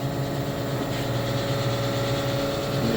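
A Marvel Series 25M vertical mitering bandsaw running, with a steady mechanical hum and drone that holds constant and close throughout, no clear cutting bursts.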